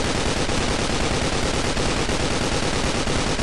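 A spray-and-pray automatic gun in the blocky shooter Blockstorm fires in a continuous rapid stream of shots, loud and unbroken, with no talk.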